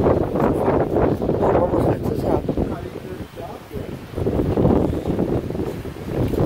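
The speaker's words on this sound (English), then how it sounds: "It's windy." Strong wind buffets the microphone atop a tall water tower, a steady loud roaring rush that dips briefly midway and then surges back.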